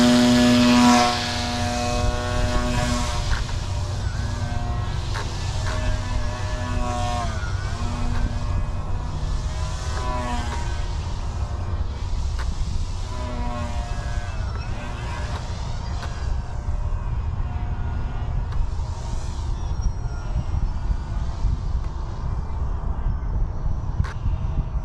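An FT Wonder Glider foam RC plane drones overhead on its maiden flight, its propeller giving a steady buzzing whine. The buzz rises and falls in pitch as the plane passes and throttles, loud at first and then fading with distance.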